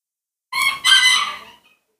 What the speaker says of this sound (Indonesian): Iya, di rumah saya banyak ayam.